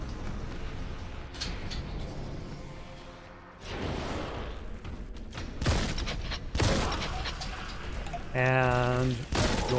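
A shotgun blasting in Warhammer 40K: Boltgun, with several sharp, heavy bursts in the second half of the clip over busy game noise and a speaking voice.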